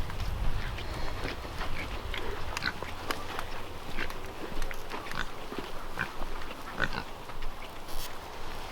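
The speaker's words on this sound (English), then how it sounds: "This is only for one pig and she eats them all." A mother pig eats Swiss chard roots, with close, continuous crunchy chewing and snuffling grunts spread over the whole stretch.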